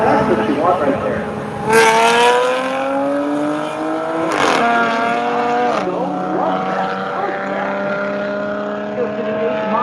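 Two street cars drag racing side by side at a roll-racing event at BIR, engines droning and shifting up through the gears as they cross the line, with announcers talking over the steady roar.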